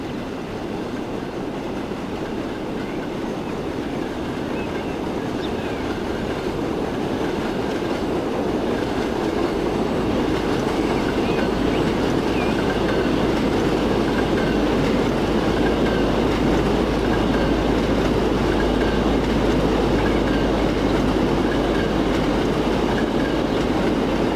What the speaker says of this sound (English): Oh, I see another train coming in.